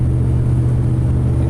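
Engine of a 1988 Chevy K1500 pickup with a stumble and power-loss fault, heard from inside while driving as a steady, loud low rumble.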